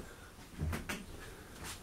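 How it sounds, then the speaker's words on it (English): An indoor door pulls shut with a soft thud, followed by a second knock as it settles, close by and fairly quiet with no talking. "I'm going to shut the door as well."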